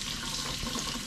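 Hot water runs steadily from a tap fed by a Fogatti tankless RV water heater, a soft continuous splashing stream, close but fairly quiet with no talking.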